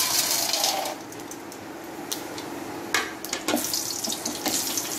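Chana dal, urad dal and peanuts tossed into hot oil give off a steady hiss and crackle, with occasional louder pops and scraping bursts near the end, close by and without talk.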